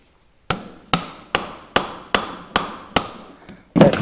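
Seven evenly spaced sharp hammer blows knock a tight metal part into place on a Cub Cadet 1650 four-wheel-drive tractor build, close and loud, each strike ringing briefly, followed by a heavier clanking thud.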